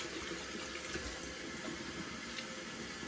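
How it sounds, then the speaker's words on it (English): Cold water runs steadily from a bathroom tap during a rinse after shaving, a constant hiss of flowing water at low level with no voices. "Gonna use a cold water rinse."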